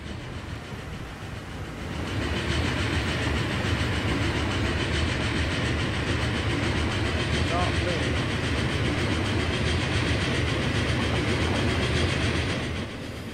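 Simulated train from a Transport Fever game runs steadily with a continuous rumbling, clattering rail roar that swells in after two seconds and holds loud throughout, with talk over it.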